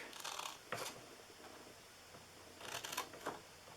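Scissors cut into scored cardstock for a DIY gift box, two short crisp snips at the start and another pair near the end, close and fairly quiet with a hush between them.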